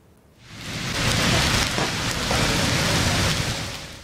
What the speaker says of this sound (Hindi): आज़ाद कश्मीर और बलूचिस्तान में तेज हवाओं के साथ बारिश हुई।